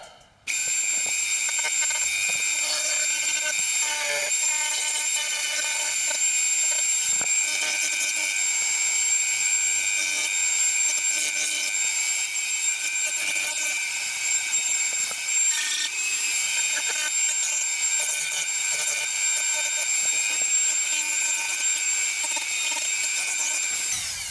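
A van console piece is shaped into a curve by hand tool work, giving a steady, loud, continuous abrasive rasp with a thin high whine throughout and no talking.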